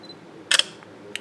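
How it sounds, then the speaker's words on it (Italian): A Sony Xperia Z3 Compact smartphone camera takes a photo, giving a short quiet double shutter click followed by a fainter second click in a quiet room. "Ok, adesso andiamo a provare a scattare una foto."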